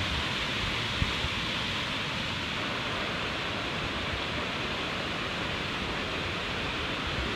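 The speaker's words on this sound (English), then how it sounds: "You can hear the river just raging in the background." Near Bamboo on the Langtang trek in Nepal, a raging river gives off a steady, dense roar of rushing water that holds even and unbroken throughout.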